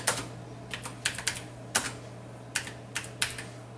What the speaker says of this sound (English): I will type my message